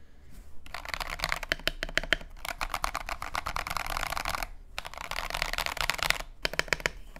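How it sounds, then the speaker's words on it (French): Rapid, crisp clacking of keys being typed on a custom AKKO ACR64 mechanical keyboard, in dense bursts separated by brief pauses, close and clear with no talking. "je vais enregistrer le son de mon clavier"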